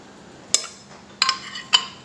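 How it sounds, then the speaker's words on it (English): Glass container clinking while smooth dosa batter is transferred into it in a kitchen: three sharp, bright clinks spaced apart over a quiet background, close and clear. "Take it out in a container, preferably a glass container."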